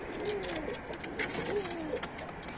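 Pigeons coo up close in low, rolling repeated calls, with faint background noise and brief higher sounds mixed in.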